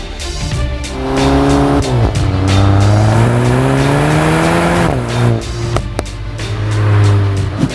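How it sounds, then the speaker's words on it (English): A 2023 Volkswagen GTI, 40th anniversary edition, accelerates hard, its engine rising loud and close, with the pitch dropping at two gear shifts before climbing again. "This is the 40th anniversary Volkswagen GTI in the flesh."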